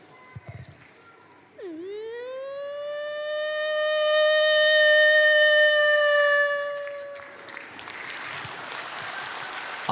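A man imitates a passing ambulance siren with his voice on a stage, a long rising and sustained wail that swells loud and then fades, followed by audience applause.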